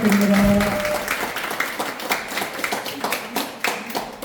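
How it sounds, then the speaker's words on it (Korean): A church congregation claps at a First Communion ceremony, a dense round of applause that follows a brief tone at the start and then thins into scattered, uneven claps from many hands in a reverberant hall. "박수 부탁드립니다."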